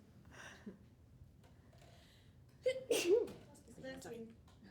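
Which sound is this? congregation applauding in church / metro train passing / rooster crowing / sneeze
sneeze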